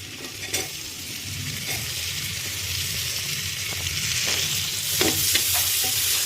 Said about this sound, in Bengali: এই যে আমরা পেঁয়াজ কুচি দিয়ে একটু যে এটাকে মানে ভেজে নিচ্ছি